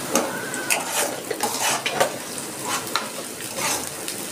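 Chopped ginger and garlic frying in a pan for a Bengali egg devil, a steady close sizzle with scattered stirring scrapes and light clinks of a utensil, no talking.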